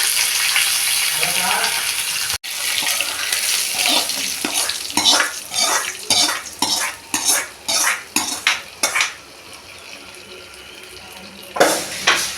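Curry-leaf tempering is tipped into a pot of temple-style sambar in a home kitchen: a run of clinking, scraping ladle and metal-vessel knocks with watery splashing and sizzle, fairly close, and no talk.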